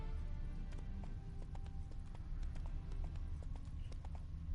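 Roach the horse gallops in The Witcher 3 video game, hooves clip-clopping in a steady running rhythm over a dense low background of game ambience and music, with no talking.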